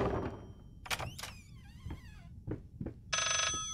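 A telephone in the horror video game Layers of Fear, a brief electronic ringing burst near the end after a few dull thunks and chirpy tones in a quiet room.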